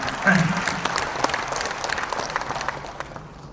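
An audience claps at an inauguration ceremony for a veterans' association, a burst of applause that swells at the start and gradually thins out, with a voice speaking briefly over the first moments.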